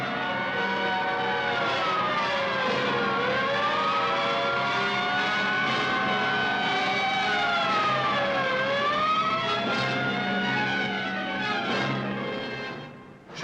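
A fire engine siren wails in long rising and falling tones as the truck, driven by a man in military uniform, pulls into a five-storey apartment complex; the siren is loud and continuous, with engine noise beneath, then cuts off.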